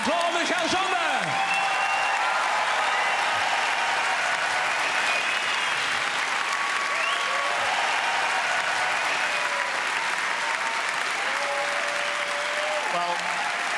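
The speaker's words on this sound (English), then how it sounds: "Give a huge round of applause to Cameron McIntosh, Alain Boublil, and Clau" A huge crowd at the Royal Albert Hall in London applauds the creators of Les Misérables during the Royal Variety Performance, producing a loud, sustained roar of clapping mixed with cheers and whoops that runs without a break throughout.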